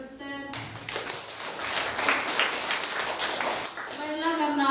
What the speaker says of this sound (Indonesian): Kita beri sekali lagi tepuk tangan pada Suster.